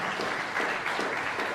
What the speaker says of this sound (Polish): Wielci brawa, pięknie